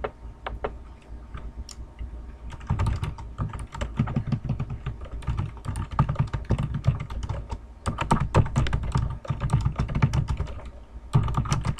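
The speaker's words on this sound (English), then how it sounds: "I'm typing this part in because I didn't before" Fingers type on a computer keyboard at close range, irregular quick bursts of key clicks with short pauses and heavier spacebar taps, alone without talk.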